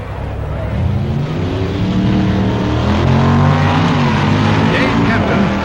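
A Plymouth and a Ford Stalker drag race in the C-Stock automatic class at the 1965 NHRA Winternationals, their loud, close engine roar climbing steadily in pitch as they accelerate.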